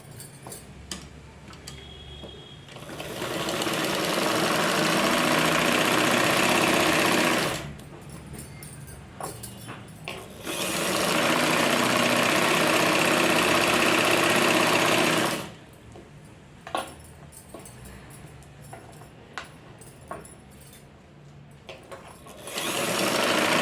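Sewing machine stitching the lining of a blouse, loud and close in two long steady runs of several seconds each, separated by quieter pauses with faint handling clicks.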